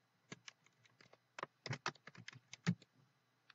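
Number keys tapped on a computer keyboard during data entry, a quiet, irregular run of close clicking keystrokes with no talking.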